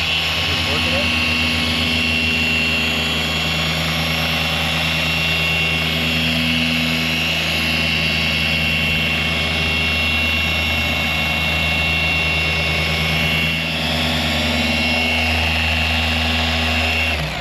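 Orbital polisher run at full throttle, working cutting compound into a truck's paint, giving a loud, steady motor drone with a constant hum throughout, talk over it at times.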